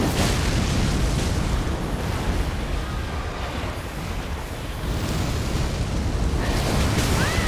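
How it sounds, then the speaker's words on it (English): A loud, dense boom roars through Elden Ring Shadow of the Erdtree combat against a tree spirit, a sustained rumbling blast that fills the whole stretch, swelling again near the end, with no voices over it. "Explosion, block it."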